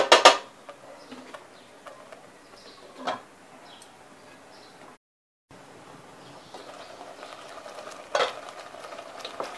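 Tomato pulp simmers for homemade ketchup, a soft, low bubbling with occasional spoon scrapes and clinks against the pot, quiet throughout with a brief silent gap.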